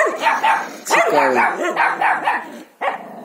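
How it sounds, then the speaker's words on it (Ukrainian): A dog barks and yips in short bursts close by on a rural farmstead in the evening, with people talking quietly alongside. "Це собака, хорошо."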